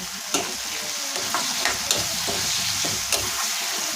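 Tomatoes hit hot oil with frying onions, peas, cumin, asafoetida and garlic for an Indian vegetable dish, raising a loud, steady close sizzle broken by several crackling spikes and stirring scrapes, with no voices.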